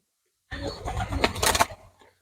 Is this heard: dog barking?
no